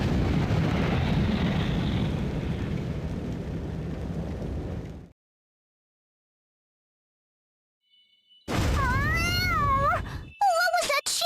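A cat meows in the Bravely Second video game, a short run of high, rising and falling meow calls near the end after a loud stretch of rumbling game sound and a few seconds of silence.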